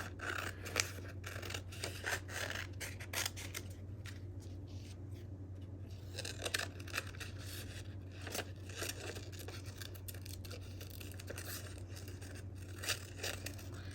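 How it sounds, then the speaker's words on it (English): Scissors snip out a paper craft tag, giving quiet, close, repeated crisp cuts and rustles of paper at an irregular pace. "I'm going to cut this out."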